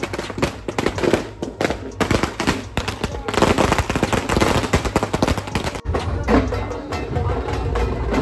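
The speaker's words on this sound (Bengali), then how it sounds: "এখানে বাজিটা ফোটানো হবে" Firecrackers burst at a Ganesh immersion procession near a fairground, dense rapid volleys of loud cracks and pops continuing almost without pause, close by, with faint voices underneath.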